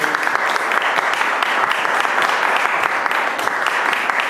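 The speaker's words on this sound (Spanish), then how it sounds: "lo convoco ya a recibir este aplauso" Audience applause greets baritone Leonardo Pécar at an opera lecture in Buenos Aires, a dense, steady patter of many hands clapping throughout, fairly loud and without talk.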